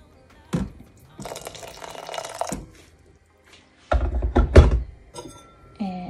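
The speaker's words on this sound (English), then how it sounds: "So I'm just going to add a little bit of boiling water." Boiling water poured from a kettle into a bowl of chia porridge, heard as short splashing pours separated by pauses with a couple of sharp knocks of the vessel, close and fairly loud, with no talking.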